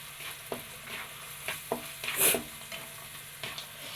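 An egg is stirred and mixed in a frying pan for avil upma, with a soft sizzle and spoon scrapes landing every second or so, close and fairly quiet, with no talk.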